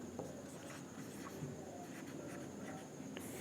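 Pen or pencil scratches across paper as a maths sum is written out, a faint, close, intermittent scribbling under steady room hiss, with no talking.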